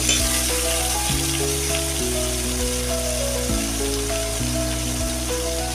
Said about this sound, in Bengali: দিয়ে দিলাম এক টেবিল চামচ পেঁয়াজ কুচি দিয়ে দিলাম পেঁয়াজটাকে এখন ভালো করে ভেজে নিব